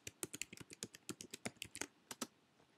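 Quick, irregular keystrokes on a computer keyboard while a MySQL command is typed, about two dozen crisp, close clicks in short bursts with brief pauses, with no other sound.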